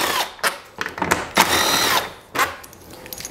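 Two 10 mm bolts are removed from a 2012-2017 Jeep Wrangler JK 3.6 during alternator replacement, heard as several short, loud power-tool bursts and ratcheting whirs separated by brief pauses, close up with no talking.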